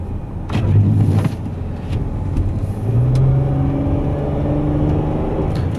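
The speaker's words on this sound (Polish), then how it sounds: "a już czułem wyraźnie, że koła buksowały" A V6 car engine revs and drones steadily with rising pitch as the wheels spin on snow, a continuous loud motor whine with no talking.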